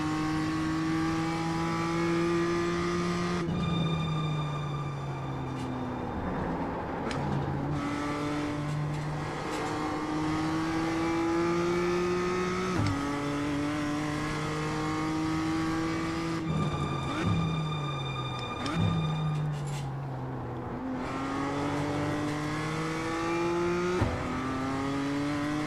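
A Toyota GR86 race car laps Road Atlanta in the iRacing simulator, its engine revving up through the gears in repeated rising sweeps, dropping sharply at each shift and braking point, with occasional tire squeal and no talking.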